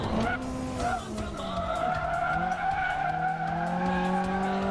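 Race car sliding into oversteer on a corner exit, tires squealing in long rising and falling tones over a loud, close engine drone, with faint speech underneath.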